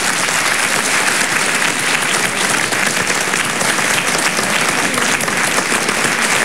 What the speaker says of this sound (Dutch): waarom krijgt dit nou geen applaus?